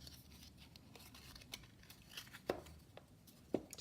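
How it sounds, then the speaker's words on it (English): A tracing wheel rolls and crunches through scrap paper, a faint close series of crisp crackles and snaps with two sharper clicks near the end, no talking. "you can hear the crunch when the tracing wheel goes through the paper"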